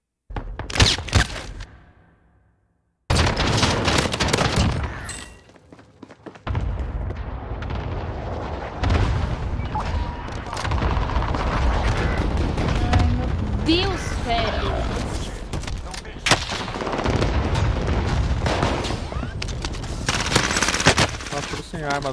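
Rapid automatic gunfire and single shots from weapons in the shooter game Valorant, loud and dense, with blasts following in quick succession over a short gap of silence near the start, while players talk over the action.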